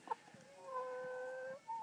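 A chicken in the Haitian mountains gives a brief cluck, then a drawn-out tonal call, fairly close and alone in a quiet setting.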